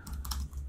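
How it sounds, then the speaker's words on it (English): Quick, light clicks of typing on a computer keyboard, a brief burst of several keystrokes heard close and quietly with no speech. "So I can just type here"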